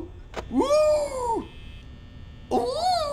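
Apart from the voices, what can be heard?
cat meowing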